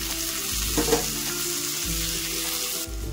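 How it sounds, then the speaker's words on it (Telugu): Potatoes frying in hot oil, giving a continuous, close, even sizzle for the whole stretch, with faint stirring noises mixed in and no voices. "ఆలు బటాటో మనకు బాగా ఆయిల్లో వేగితేనే చాలా బాగుంటుందండి"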